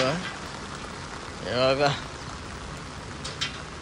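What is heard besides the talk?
heavy rain falling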